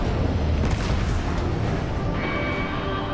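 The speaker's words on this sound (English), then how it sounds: "That explosion took out security on the lower decks." A scripted explosion in the video game Destiny 2 (Forsaken), a loud deep boom with a rumbling burst that fills the clip and then settles into a lingering roar.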